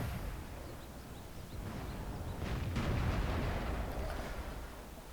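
A Tier 4 French premium 105mm self-propelled artillery gun firing in a tank battle game, a muffled distant boom swelling midway over steady low rumbling background noise, with no voices.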